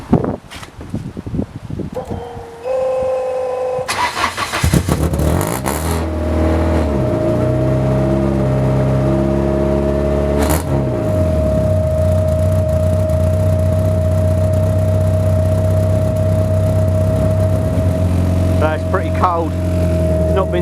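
A Peugeot 306 GTI-6 with a turbo, cranking and catching, then a loud rough idle with revs rising and falling, close and continuous, as people talk over it.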